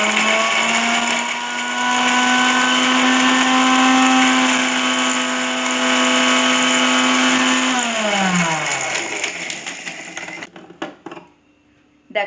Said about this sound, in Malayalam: ആദ്യം നമ്മൾ ഈ വറുത്ത് വെച്ച മുളകുണ്ടല്ലോ അതിനെ ഒന്ന് പൊടിച്ചെടുക്കാം.